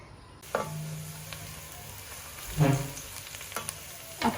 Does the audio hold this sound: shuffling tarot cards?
no